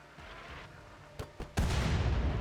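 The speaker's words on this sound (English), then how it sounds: "Let's just aim right for that wall. Why not? Sighted in. Firing." A weapon in the RimWorld colony game fires at a wall: two sharp pops, then a loud sustained burst of blast noise that rumbles on to the end.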